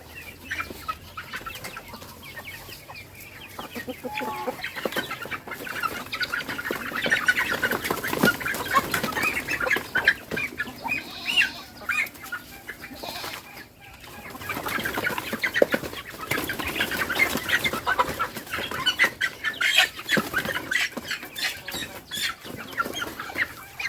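Chickens and chicks in a farmyard pen cluck continuously at close range, layered calls rising and falling over about twenty-four seconds with occasional wing flapping and a brief quieter lull midway, no talking.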